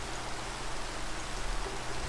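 Steady rain falls in Minecraft with the FTB Revelation modpack, an even hissing patter of drops that stays constant and fairly loud throughout, with no voices.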